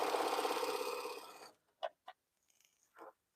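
A sewing machine stitches across scrap fabric in a fast, steady buzz for about a second and a half, then stops, followed by a few soft clicks and taps nearby.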